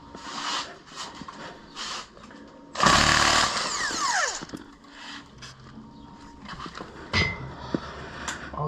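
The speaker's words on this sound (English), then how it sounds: "Pop off this 10mm Allen head, and then you're free to pry up and take this selector off." An Allen head bolt being worked loose from the shift selector of a 2002 Acura RSX Type S, with a long rattling ratchet burst among scattered metallic clicks and clanks.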